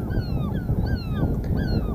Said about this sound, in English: the seagulls are well annoyed with me.